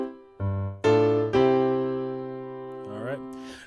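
Gospel chords on piano, struck in a slow progression of several sustained voicings that ring out and decay, the last one rising with a brief walk-up, clear and close with no talking.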